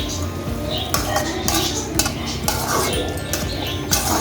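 Mutton chukka being stirred in a metal cooking pan, a spoon scraping and clinking against the pan in repeated strokes about every half second, close and fairly loud over a low background.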